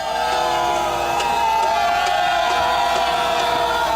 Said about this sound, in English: That's because they're booing PNM parliamentarians